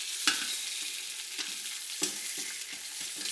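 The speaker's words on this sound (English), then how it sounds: "Try to flip them over and cook them all evenly, all around." Beer brats brown in a pan, with a quiet, continuous sizzle broken by several soft knocks and scrapes as they are turned, close up with no voices.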